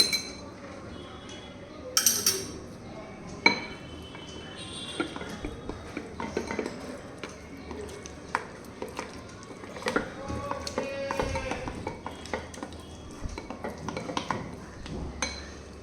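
Cucumber salad with chopped coriander and garlic being tossed in a bowl, giving scattered light clinks and taps of utensil against dish, with soft stirring rustles throughout and no voices.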